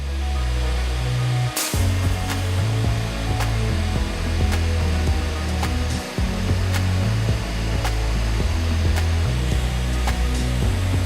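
A 600-degree heat gun heating a Coca-Cola can blows with a loud, steady rushing roar that runs continuously, broken only by a brief click and slight shifts in its hum.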